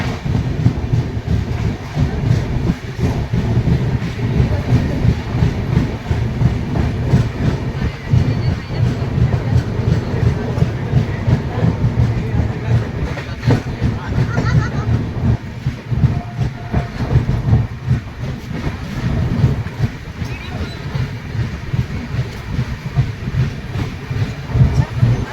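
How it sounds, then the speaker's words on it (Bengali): A New Delhi–Malda Town Express rolls steadily toward Ara Junction after leaving Buxar, its wheels and carriages giving a continuous loud rumble with faint clickety-clack throughout, heard from inside the coach with no talking. "বক্সার থেকে ট্রেন ছাড়ার কিছুক্ষণের মধ্যেই ট্রেন পৌঁছে গেছে আড়া জাংশন"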